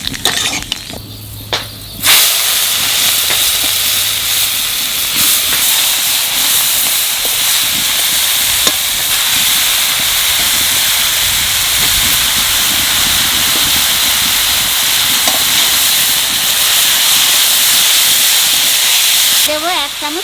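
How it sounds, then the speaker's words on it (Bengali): Nigella seeds crackle and sizzle in hot oil for a banana flower dish, a loud, dense, continuous hiss after a short quieter start, with a faint clink or two. "তেলের উপরে দেবো কটা কালো জিরে"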